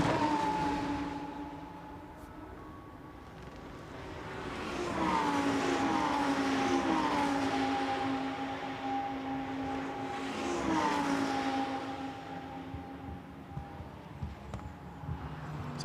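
A Lamborghini Super Trofeo race car at Spa sweeps past with a rising and falling engine note, a couple of gear changes sliding through the pass, loud and close before fading.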